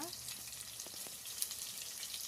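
Onion and green chillies fry in oil for vegetable uppittu, giving a steady, soft sizzle with faint crackles and a light stir or two partway through, heard close with no voices.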